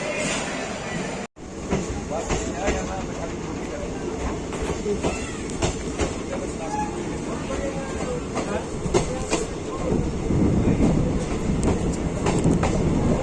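A Haldibari Express passenger train rumbles steadily along the tracks near Bolpur Shantiniketan, with a continuous rolling roar and faint rhythmic clatter, growing slightly louder toward the end.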